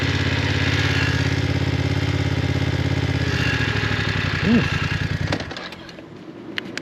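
A 2023 BMW F 900 XR motorcycle engine idling with a steady, close, loud rumble, then a brief rev before the engine cuts out near the end.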